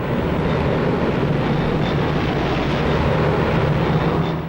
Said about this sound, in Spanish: En un mes, los aviones de transporte de la nueva Luftwaffe de Hitler habían organizado un puente aéreo para trasladar a los veteranos de Franco